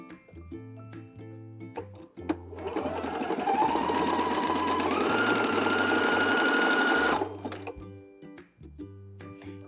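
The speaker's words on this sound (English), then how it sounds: "So I have my zigzag stitch set and I'm gonna work my way all the way around these" A sewing machine works a zigzag stitch on thong underwear, starting with a few short ticking bursts, then one long loud run of rapid stitching before slowing to brief stops again.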